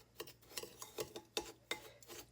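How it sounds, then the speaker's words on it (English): About a tablespoon of Parmesan being stirred into a cup and a half of breadcrumbs in a bowl, heard as a close series of quiet, rhythmic scraping and rubbing strokes. "put about a tablespoon of Parmesan into what is about a cup and a half of breadcrumbs, and just stir that up"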